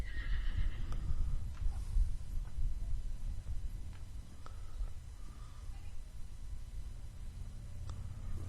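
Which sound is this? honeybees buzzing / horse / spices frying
horse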